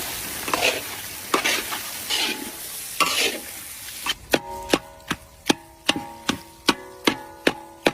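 Spice paste with turmeric and Kashmiri chili powder stirred in a pan: a few soft scraping stirs, then a steady run of sharp, evenly spaced metallic clinks from the spoon against the pan, close and clear with no talk.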